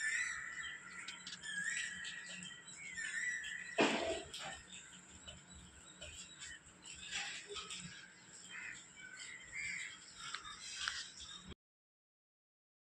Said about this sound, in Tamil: ஸோ இந்த மார்னிங் இந்த குயில் கூவுறது, இந்த காக்கா கத்துறது